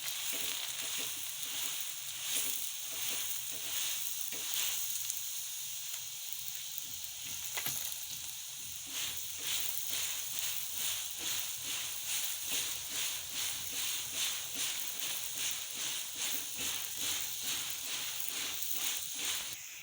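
An aloo paratha fries in ghee on a pan, a steady low hiss and sizzle with faint repeated scraping or pressing sounds in a soft rhythm.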